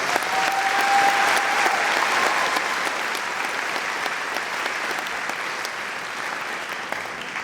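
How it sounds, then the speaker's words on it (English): Sustained audience applause fills a senior awards ceremony hall, a steady dense wash of clapping from a large crowd that holds evenly throughout before easing slightly toward the end. "Could we please have a round of applause for the electricity?"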